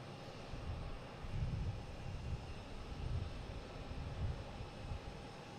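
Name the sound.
Cape Air Cessna 402 arriving from Nantucket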